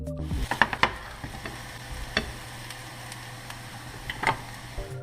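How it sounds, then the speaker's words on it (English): Garlic sautéing in olive oil on a burner, a steady soft sizzle throughout with scattered stirring clicks and utensil taps against the pan. "Just a dab of olive oil on the garlic, and in about a minute, blend it all around"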